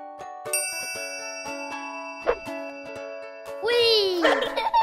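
Cartoon-like dog barking in a French children's animal quiz, heard after bright chime and ding tones over a steady musical backing, with short lively yelps near the end.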